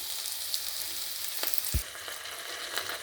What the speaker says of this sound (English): So further cooking the garlic and onion, and later we're going to add it to our pan.